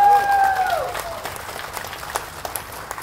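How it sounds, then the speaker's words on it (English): An outdoor crowd at a National Day rally in Hong Lim Park bursts into applause, a dense wash of clapping that fades down over a few seconds, with a tone from the sound system trailing off at the start. "Let us give ourselves a round of applause!"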